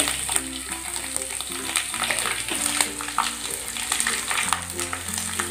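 Coconut pieces, peanuts and asafoetida sizzle steadily in hot tempering oil for a Khandeshi-style chili bhaji, with scattered crackles and stirring under faint background music.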